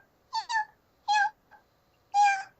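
A voice imitates a tiny kitten meowing, giving three short high mews with a small squeak between them, close and clear against silence.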